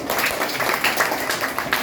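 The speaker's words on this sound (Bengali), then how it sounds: "আমরা করতালি দেই" A class of children claps together in a schoolroom, a dense, steady patter of many hands that holds at an even level throughout, with no voices over it.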